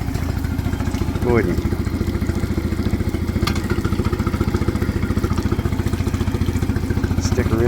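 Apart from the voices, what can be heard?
Suzuki DF20A outboard motor running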